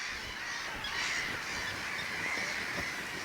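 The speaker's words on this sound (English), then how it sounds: "Later in the season, common terns welcome me on the water." Common terns call over a river delta, harsh raspy cries overlapping in a steady chorus that sounds moderately distant and fairly faint.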